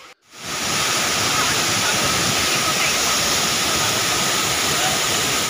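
Gundichaghagi waterfall roaring as a steady, loud, broadband rush of falling water close by, starting after a brief quiet moment and continuing unbroken.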